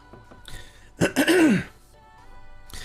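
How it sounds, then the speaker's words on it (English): A man clears his throat once, close and fairly loud, a short rough rasp with a few faint sounds before it and a brief noise near the end. "Let me clear my throat here."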